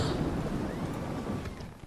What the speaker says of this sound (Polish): Burza.